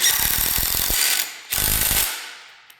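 Quick ratcheting clicks from a socket ratchet tightening a bolt during engine assembly, two close bursts of rapid clicking separated by a short pause, then fading out.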